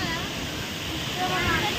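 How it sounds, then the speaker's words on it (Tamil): Thirparappu waterfall gives a steady rushing roar of falling water that holds at a constant level throughout. "சூப்பரா இருக்குது திருப்பரப்பு அருவி."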